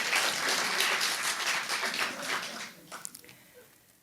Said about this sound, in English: Go on and clap if you want to clap.